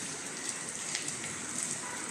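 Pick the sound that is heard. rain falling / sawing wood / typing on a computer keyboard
rain falling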